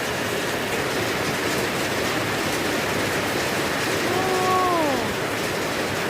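Heavy rain pours down in a steady, dense wash of noise for the whole stretch, loud and unbroken, with a faint thin whine rising briefly near the end.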